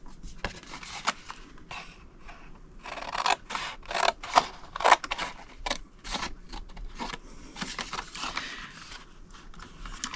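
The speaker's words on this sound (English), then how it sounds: "go to the next two score lines and cut them to the second score" Sharp, repeated snips of scissors cutting cardstock along score lines for a folded treat box, a quick series of close, crisp cuts with short pauses and no talk.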